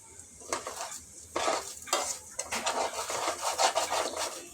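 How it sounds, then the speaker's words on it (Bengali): Pulao rice frying in oil in a pan, stirred with a spatula: close, repeated scraping and rustling strokes over a soft sizzle, coming in uneven bursts with no voices. "আমি এভাবে নেড়ে নেড়ে খুন্তি দিয়ে ভালোভাবে নেড়ে চেড়ে নিব"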